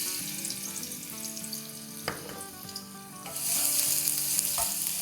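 Crushed garlic drops into about three tablespoons of hot oil in a pan for veg chow mein, giving a loud close sizzle that swells into steady, bubbling frying with a few clinks of a utensil.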